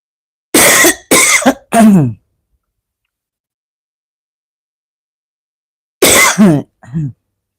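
Three sharp dry coughs in quick succession, a long silence, then two more coughs, loud and close, from a speaker with a dry throat.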